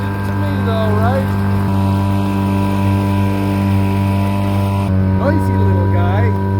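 A small motor drones steadily and loudly on a homemade blue barrel boat, a continuous buzzing hum running throughout with some talk faintly heard over it.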